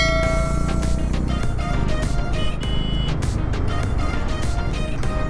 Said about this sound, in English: There's heavy traffic today.